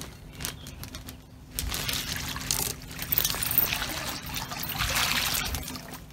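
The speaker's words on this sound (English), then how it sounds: "we're going to pour a bit of water into it." Water is poured into a Ziploc bag, making an uneven trickling, splashing pour that starts and stops, then runs more steadily and gets louder toward the end.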